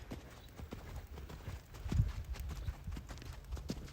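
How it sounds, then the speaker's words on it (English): A horse cantering on the right lead, a rolling three-beat rhythm of hoofbeats on soft ground, close and steady with a heavier thud partway through. "Canter off on the right lead."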